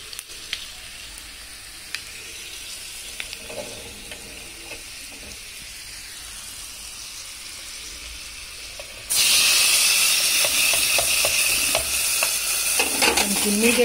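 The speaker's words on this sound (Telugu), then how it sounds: "తెల్లగడ్డలు బాగా బ్రౌన్ అవుతున్నాయా ఫ్రెండ్స్, కాపేసి మన కూరలో కలిపేసుకుందాం" Garlic browning in hot oil for a curry tempering, a steady sizzle with light stirring that jumps to a much louder, harsher hiss partway through, continuous and near.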